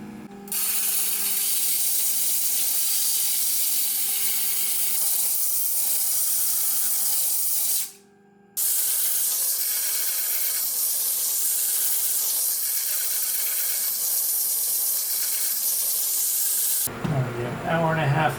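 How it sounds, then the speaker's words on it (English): A faceting machine grinds a large pear-cut quartz gemstone on an 80 grit lap, a steady hissing whir with a watery spray quality, nearly constant for the whole stretch, broken by one short gap. "The 80 grit's grinding in way slower than I'd like"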